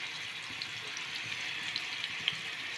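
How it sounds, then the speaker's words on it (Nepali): Fish fries in a pan, giving a steady, close hiss of sizzling oil with small scattered pops and crackles, with no voices. "अनि यति चाहिँ फ्राई गरिदिन्छु।"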